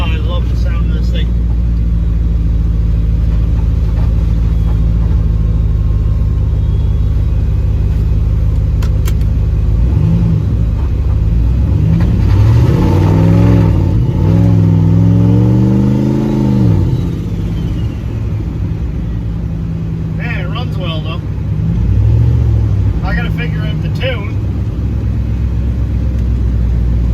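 A turbocharged LS V8 swapped into a Caravan rumbles at idle, then revs in several rising and falling bursts, close and loud.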